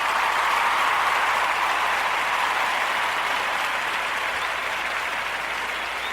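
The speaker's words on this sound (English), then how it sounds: "I'm going to give him a round of applause for that initiative" Sustained applause from a crowd, steady and dense clapping throughout with no pauses, fairly close and even in loudness.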